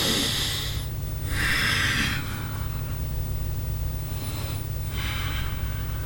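Deep breathing is heard during the yoga locust pose. Several long, forceful breaths through the nose alternate in and out in a slow, steady rhythm. They are close and clear against a constant low hum in the background.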